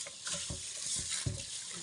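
A kitchen tap runs steadily into a sink while mung beans are rinsed before boiling, a continuous close splashing rush with a few brief knocks and thumps of handling underneath.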